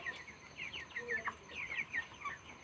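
Broiler chickens on a poultry farm give soft, repeated clucks and chirpy calls, several birds overlapping at a moderate distance in a quiet shed.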